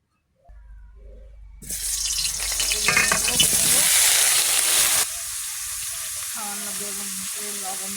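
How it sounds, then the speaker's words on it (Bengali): Eggplant pieces hit hot oil in a wok with a sudden loud sizzle that swells and crackles, then settles to a softer steady fry. "তেল আছে বলে ওই কড়াই দিয়ে দেবো বেগুনগুলো"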